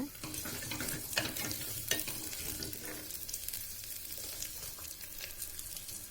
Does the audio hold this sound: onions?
yes